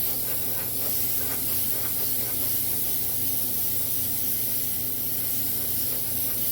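A paint sprayer running at about 45 to 50 PSI gives a steady, loud hiss that holds unbroken for several seconds, close by, with no talk.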